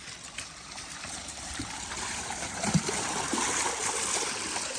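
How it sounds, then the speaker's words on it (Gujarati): Water flowing and filling in at an outdoor work site, a continuous close rushing trickle with light splashing, steady throughout without talk. "આવી રીતે પાણી ભરાતો આવે છે"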